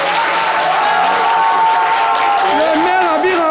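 A crowd at a community event applauds and cheers for the mayor of Makori commune, with steady clapping and scattered whoops filling the space while voices carry through.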